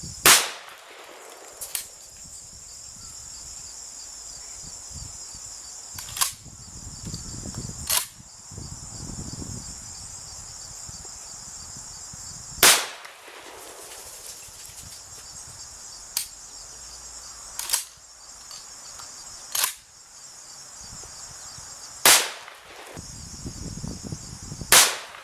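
A Remington Model 11-48 12 gauge semi-automatic shotgun fires at clay targets outdoors, about ten sharp, loud reports spaced irregularly a few seconds apart over steady insect chirping.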